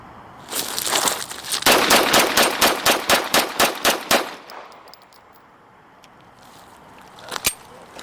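Rapid burst of about a dozen gunshots as kids fire at a pumpkin outdoors, loud and evenly spaced, then a quiet gap and one more isolated shot near the end.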